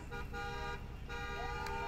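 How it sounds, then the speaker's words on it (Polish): Horn of a Porsche Taycan catcher car during a Wings for Life charity run in Poznań, sounding as steady, sustained, harmonic honking for about two seconds over loud continuous background noise. "Kolejne reagują, reagują na, na klakson."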